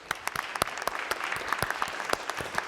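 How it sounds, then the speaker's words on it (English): Applause for Team Agri ThinkTank after their finalist presentation: a steady wash of clapping from a medium-sized audience, with sharper individual claps standing out throughout. "Let's give them all one huge round of applause"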